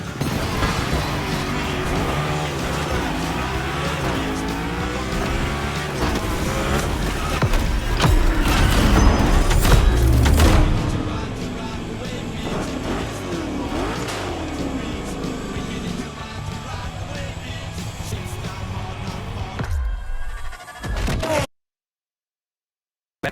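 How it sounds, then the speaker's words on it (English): A Hoonicorn 1965 Ford Mustang V8 roars in The Crew Motorfest racing game, its loud engine note rising and falling through gear changes with a harsh burst near the middle, continuing until it cuts off abruptly near the end. "this monster that spits fire out of its V8"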